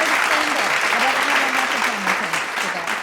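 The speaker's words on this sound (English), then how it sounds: "Can we pause for some applause?" A small group applauds steadily at a stitching show, the clapping dense and close for three seconds while a voice talks over it.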